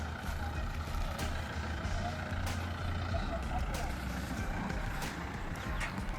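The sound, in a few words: tempo truck loaded with onion sacks driving off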